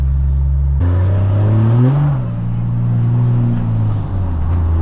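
A diesel truck revs hard while spinning its rear tires, a loud rising engine roar that swells and holds with a rumbling low drone, no talking.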